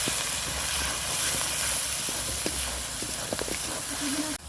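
Ginger and garlic frying in oil as turmeric powder goes in, a steady dense sizzle with small pops and clicks of stirring close up, then a sudden drop in noise at the end.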